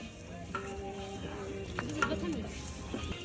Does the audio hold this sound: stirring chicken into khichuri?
yes